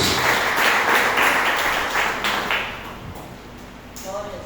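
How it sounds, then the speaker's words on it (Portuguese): A church congregation gives loud applause, dense clapping that tapers off after a few seconds into quieter room sound, with a voice speaking at the close. "vamos receber a serva de Deus com forte salva de palmas para Jesus"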